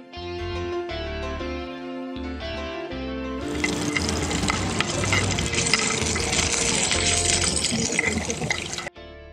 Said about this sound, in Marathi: सर्वप्रथम आपण काजू तळून घेऊयात